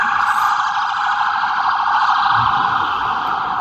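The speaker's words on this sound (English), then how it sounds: "nothing like an ambulance" A loud, steady wailing siren from an emergency vehicle, most likely an ambulance, holds one sustained tone close by throughout, with nothing else audible over it.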